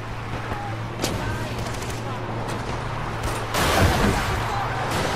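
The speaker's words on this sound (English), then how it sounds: "Just insane and non-stop explosions." Explosions and bursts of gunfire from the Far Cry 4 video game, sharp blasts going off repeatedly over a dense rumbling battle, with a louder blast near the end and a voice talking over it.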